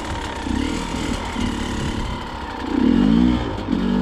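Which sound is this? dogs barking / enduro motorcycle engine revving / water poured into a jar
enduro motorcycle engine revving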